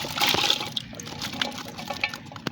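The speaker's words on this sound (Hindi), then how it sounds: "आधा गिलास पानी शामिल करेंगे।" Half a glass of water poured into a cooking pot of minced meat with ginger, garlic and potato, a short close splashing gush that trails into faint dripping.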